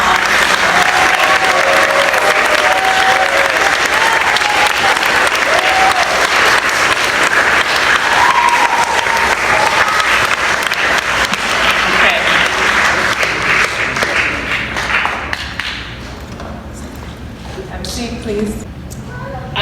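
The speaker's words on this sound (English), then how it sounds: "Can we give another round of applause for our" A school audience at a farewell gathering claps loudly in sustained applause with some cheering and voices over it, tapering off toward the end.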